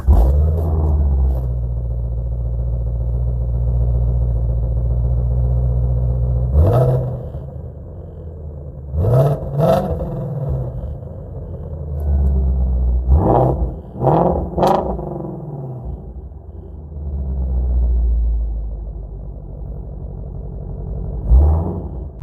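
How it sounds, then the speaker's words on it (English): A Dodge Challenger Scat Pack rumbles at idle, then its exhaust barks through several sharp revs, first singly and then in quick pairs, each dropping back to a deep burble. "You know, you hear this exhaust is just."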